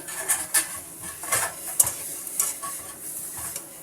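Onion and garlic frying in oil in a pan, a loud close sizzle with repeated scraping strokes of a spatula stirring at an uneven rhythm, no talking.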